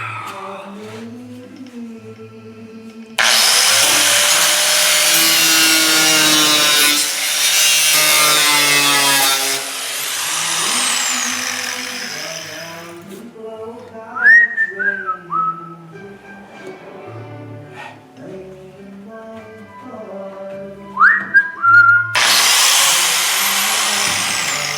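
Angle grinder cutting through a car quarter panel on a chopped Ford shoebox build, two long loud bursts of harsh whining grind with quieter spells between, and brief squeals as the wheel catches.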